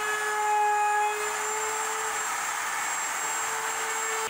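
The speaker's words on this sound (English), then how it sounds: "I am now running my roundover bit along the top edge of the counter." Router with a roundover bit cutting along the top edge of a counter, a close steady high-pitched whine that dips slightly partway through, heard alone.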